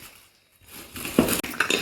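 Ceramic tea cups clink and knock as they are handled and set down, a few close, light chinks after a quiet moment, with no talk.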